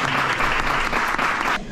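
Guests at an engagement party give a round of applause for the bride-to-be, İrem. The clapping is loud, dense and continuous, then cuts off sharply at the end.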